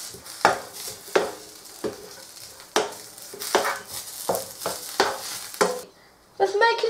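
Spiced ingredients for jian bing, a Chinese crepe, stirred together in a bowl: repeated scraping, clattering strokes in an uneven rhythm, close and fairly loud, with a brief pause near the end.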